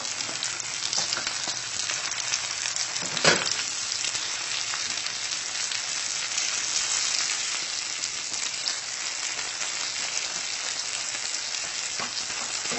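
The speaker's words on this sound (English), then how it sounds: "So this oil is going through this bottom so that it's going to turn crispy." Paa jeun dough fries in oil in a pan, giving a steady, close sizzle that continues throughout, with one brief clatter early on.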